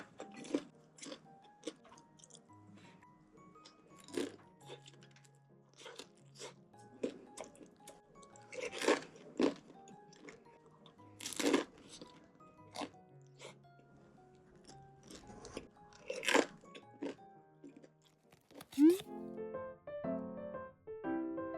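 Close-miked mukbang chewing of crunchy food, with irregular sharp crunches and wet bites scattered over a quiet background. The meal includes delivery and home-cooked dishes such as boneless chicken, pizza, dumplings and pork belly. A soft tonal sound enters near the end.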